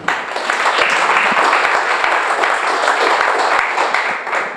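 Parents in a civic theatre comedy showcase audience applaud on cue, giving a dense, steady wash of clapping that stays loud and even throughout.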